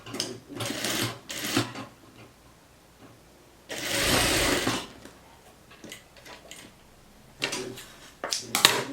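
Sewing machine stitching elastic onto the waistband of stylish trousers, running in several short bursts with a long steady run in the middle, close and fairly loud, with pauses of handling between.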